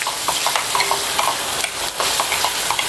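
Masala sizzles steadily in a hot pan while a spoon stirs it with repeated light scrapes. Cut tomato pieces are being fried in it for a sea bass fish curry, and the sound is close and continuous.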